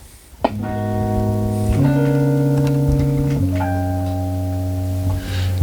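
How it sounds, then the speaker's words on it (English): Three sustained, rich extended 15th chords ring out one after another, each a dense stack of tones, played alone without any talking. "If you play the 15th chord, it's going to sound like this."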